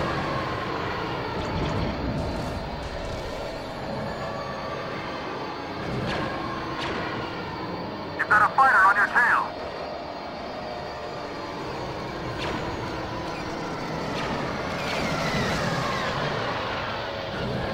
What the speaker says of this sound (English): Recon bomber behind you.